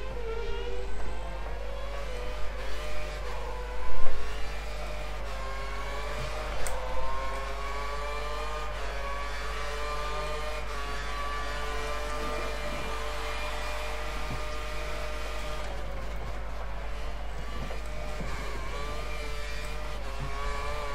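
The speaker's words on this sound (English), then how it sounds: "We've got a car coming up behind us now, a couple of cars" F1 race car engines in the F1 2013 game during Australia qualifying give a sustained high whine. The pitch rises and drops through gear shifts, with other cars closing in behind and short bumps over the track.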